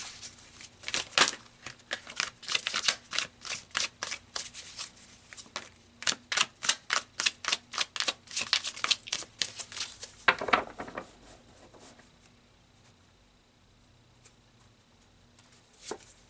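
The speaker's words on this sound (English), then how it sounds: "So let's pull some more cards." Tarot cards are shuffled by hand in quick, crisp bursts of riffling and tapping, close and clear, with a short pause midway before more shuffling; the shuffling stops near the end, leaving quiet.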